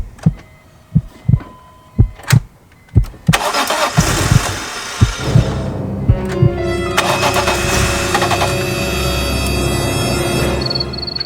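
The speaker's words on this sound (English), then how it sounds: "we're finally able to start up the car" A BMW E46 M3 engine fitted with a carbon fiber intake cranks in a series of rhythmic, labored turns, then catches and roars into a loud, steady running rumble.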